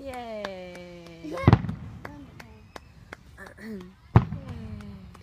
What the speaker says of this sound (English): That firework just went like me.